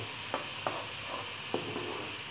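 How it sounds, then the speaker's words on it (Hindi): Onions turning golden in a pan for beef nihari, a steady low sizzle broken by a few sharp stirring taps spaced unevenly. "प्याज गोल्डन हो रहा है"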